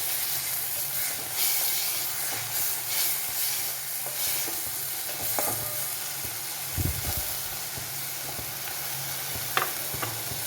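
Ginger and garlic cook with chopped tomatoes in a pan, giving a soft, steady sizzle with scattered stirring scrapes and small clinks, fairly quiet throughout.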